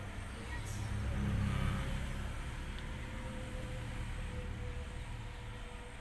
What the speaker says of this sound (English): So many people, so many cars